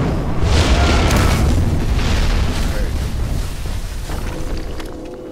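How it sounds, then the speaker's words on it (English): Fireworks burst in the video game Kingdoms of Amalur: Reckoning, a dense rolling series of loud booms and crackles that decays over several seconds. "Damn fucking fireworks."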